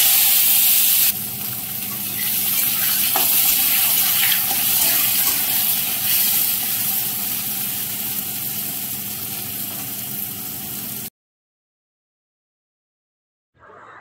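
Cinnamon and cardamom go into hot oil for a chicken dish, a steady hissing sizzle that continues for several seconds before the sound cuts to silence.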